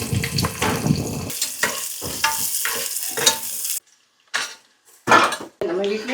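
Onions, garlic, shallots and green chilies fry in a pot, sizzling close up while a utensil stirs and clinks against the metal, broken by short quiet gaps.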